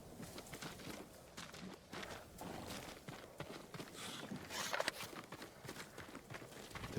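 Samurai horses' hooves clip-clop in a video game, a busy stream of overlapping hoof thuds at moderate loudness with occasional faint bird calls in the background, no talk.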